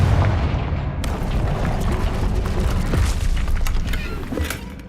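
A Confringo fire spell explodes in Hogwarts Legacy, a deep boom followed by a sequence of sharp cracks and crackling impacts over a sustained low rumble, loud and close for several seconds.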